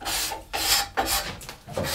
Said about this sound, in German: Vorsichtig schabt sich der Bogner an den vorher gewählten Jahresring heran.